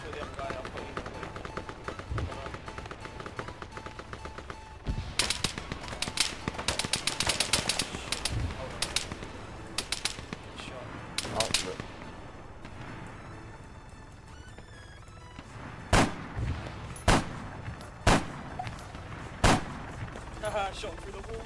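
Gunfire in the military shooter Arma 3, with scattered shots and bursts at varying distances, several sharp loud cracks toward the end, mixed with footsteps and game noise under occasional voices.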